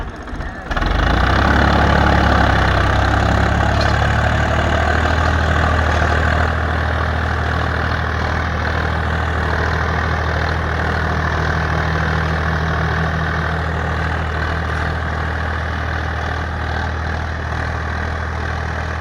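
A Swaraj 855 FE tractor runs with an 11-tine tiller working hard ground, its heavy diesel engine making a loud, steady low rumble that starts abruptly and holds for the rest of the clip.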